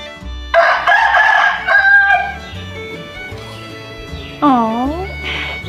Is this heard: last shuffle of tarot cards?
no